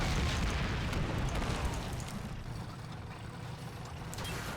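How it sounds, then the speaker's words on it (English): Mortar fire in the Men of War: Assault Squad 2 war game, a burst of booming, noisy explosion that fades into a rumbling battlefield wash over several seconds. "Mortar firing."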